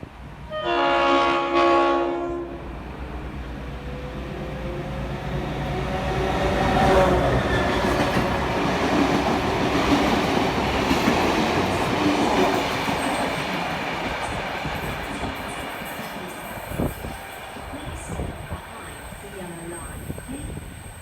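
A diesel locomotive, number 42103, pulls a passenger train past near Hurstville in New South Wales, opening with a loud two-note horn blast before a long rolling rumble of wheels and cars, with squeals and clatter fading toward the end.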